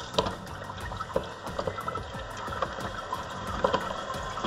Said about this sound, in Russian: И если мы откручиваем, возобновляем подачу холодной воды.